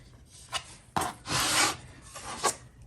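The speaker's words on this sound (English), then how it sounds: "use my X-Acto knife to kind of trim those edges off where there's a little overhang" An X-Acto knife trims overhanging edges from a handmade wood photo background, giving a few short scraping cuts and one longer rasping stroke, close and fairly quiet.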